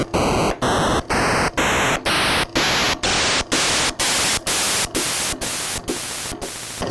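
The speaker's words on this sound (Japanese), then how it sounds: "まず長周期ノイズというものが16種類あります。" A Famicom (NES) noise channel steps through its long-period noise settings: a run of loud, hissing static bursts, each briefly cut off by a short silence, with the pitch shifting from one burst to the next.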